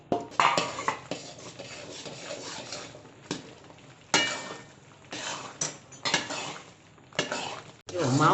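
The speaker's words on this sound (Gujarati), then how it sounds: "આપણે માવો એમાં એડ કરી દઈશું, એટલે માવો હારવાર શેકાઈ જાય" Mawa roasts in a pan for Gujarati adadiya, a spoon scraping and knocking against the metal in uneven bursts of stirring, with a soft sizzle underneath and no talking.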